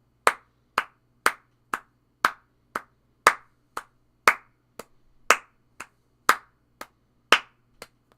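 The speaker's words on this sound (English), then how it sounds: "all I'm going to do is I'm going to clap each one of those dark" Hands clap a steady, evenly spaced beat, sixteen sharp close claps with alternating stronger and softer strokes, alone in a quiet room.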